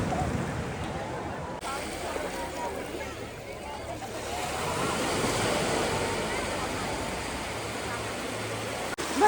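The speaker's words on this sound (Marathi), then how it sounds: "लाट आली, थांबा. लाट तुमच्या तिथं बनणार आहे लाट." Surf breaking steadily on the shore at Radhanagar Beach in the Andamans, a continuous wash with wind buffeting the microphone and people talking nearby.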